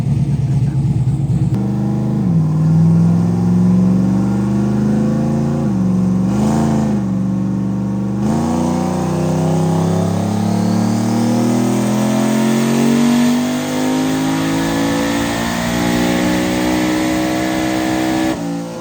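A Mazda RX-7 rotary engine on a dyno, loud and close, drops to a rough idle, blips twice, then revs in one long steady climb to a high pitch and cuts off sharply.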